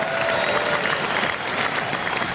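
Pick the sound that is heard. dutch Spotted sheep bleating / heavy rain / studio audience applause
studio audience applause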